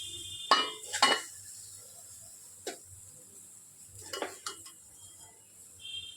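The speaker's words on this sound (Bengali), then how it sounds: "ঠোঁটটা আমি এবার একটা পাত্রে তুলে নেবো" A spoon scrapes and clinks against metal as cooked banana stem (thor) is moved from a pan into a bowl, several close taps and scrapes spaced across the stretch.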